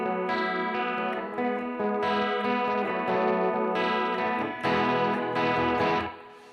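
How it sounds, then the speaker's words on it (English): Electric guitar in a clean tone with a chorus-style effect plays a shimmering, strummed chord passage with ringing sustained notes and several restrikes, close and alone, fading at the end. "So I'm switching to a clean tone and a little bit of a chorus effect here."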